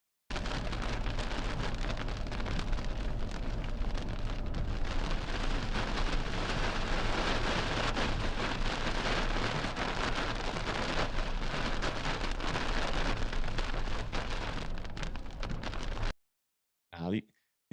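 Heavy rain pours steadily during a tornado-producing storm in the Southeast, a dense loud roar lasting about sixteen seconds before cutting off abruptly, with a brief faint sound after.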